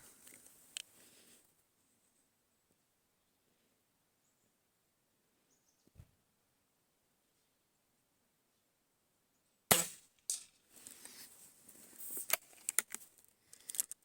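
Shots from a Shanghai B1-1 air rifle firing 0.45 g pellets: a sharp report near 9.7 s, followed by several quieter clicks and clatter, with a faint tap earlier and long stretches of near silence.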